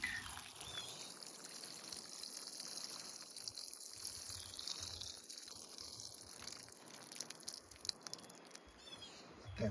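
A repotted air layer plant being watered, a faint soft trickle and pour of water into soil, quiet and continuous with light background hiss.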